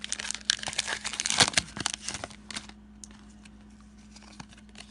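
A Pokemon card booster pack's foil wrapper crinkles and tears close up in a quick, dense burst for a couple of seconds, then quiets to a few faint rustles.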